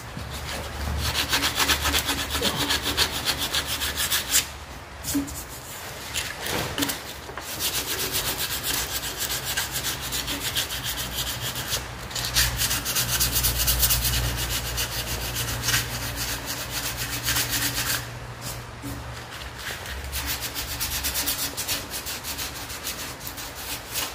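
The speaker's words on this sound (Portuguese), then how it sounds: "Essa é a dica como que eu faço o lixamento para ficar um pouco mais rápido." Body filler on a tricycle being sanded by hand after a second coat of filler, a continuous close scratchy rubbing in steady back-and-forth strokes, with brief pauses throughout.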